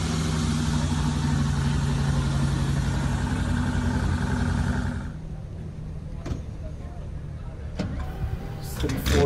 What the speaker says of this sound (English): Man, the car sounds amazing, doesn't it?